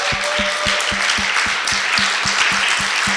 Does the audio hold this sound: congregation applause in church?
yes